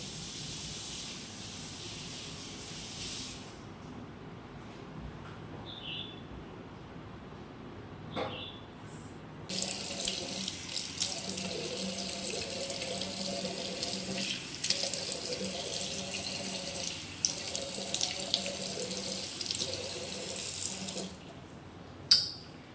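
A tap runs steadily into a sink while a face is rinsed after cleansing lotion. The hiss is constant and close, with the water stream heavier and splashier in the later part.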